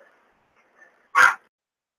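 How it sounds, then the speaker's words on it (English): A single sharp, loud dog bark rings out close by after near silence, a short burst with only faint low murmurs before it. "That dog's just been a pain in the day all day today"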